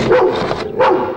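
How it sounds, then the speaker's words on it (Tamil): A police sniffer dog in a Tamil comedy film scene barks close and loud, giving a quick run of sharp woofs, a brief pause, then another yelping bark. "ஏன் கிடந்து கொலைக்கிற?"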